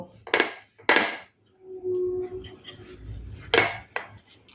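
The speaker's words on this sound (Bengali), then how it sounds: "এখন কুলচাগুলো বেলতে শুরু করব।" Aloo kulcha dough, dusted with flour, is rolled out with a rolling pin: several loud, close knocking thuds of the pin against the board, with quieter rolling and scraping in between.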